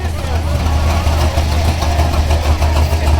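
A powerful car engine, tuned to 847 horsepower at the wheels, idles loudly and close by with a deep, steady rumble and slight lope at a car gathering; a voice talks faintly over it.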